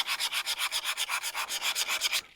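Sandpaper scrubs the key of a Wilton Bullet bench vise to take out scratches and gouges, in about sixteen quick, even back-and-forth strokes that are close and clear, with no talking.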